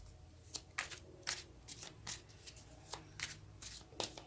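Tarot cards are shuffled by hand nearby, giving a quick series of crisp riffling and flicking bursts at fairly even intervals. No one speaks.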